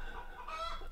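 A hen clucks in the background early in the morning, a soft throaty call that runs steadily through the whole short moment with no one speaking.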